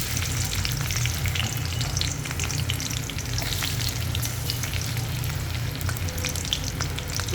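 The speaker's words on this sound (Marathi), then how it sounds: "कढीपत्ता भाजल्यानंतर याच्यामध्ये बटाटे थोडे भाजून घेऊ." Potatoes fry in a couple of spoons of hot oil with toasted curry leaves for sabudana khichdi, a loud continuous sizzle and crackle with stirring, close up and without talk.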